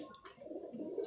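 Ferozpuri pigeons give a brief, soft, low coo, faint and close, with no other sounds around it.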